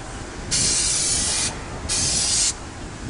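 Spray adhesive gun blowing glue through a nozzle set for a wide pattern, used to glue carpet in a Mustang: two loud, steady hissing bursts of about a second each, separated by a short pause, close up.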